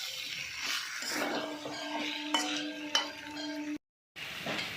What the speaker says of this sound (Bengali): দিয়ে মশলার সঙ্গে একটু ভালো করে মিশিয়ে নিচ্ছি।